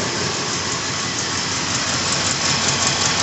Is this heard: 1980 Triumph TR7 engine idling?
yes